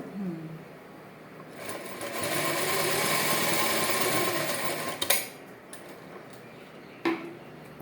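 A sewing machine runs steadily for a few seconds while stitching a straight line along the back panel of a ladies' churidar, its close mechanical whir rising and then easing off, followed by a couple of sharp clicks.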